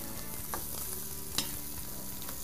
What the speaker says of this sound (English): And you just want to scorch the peppers.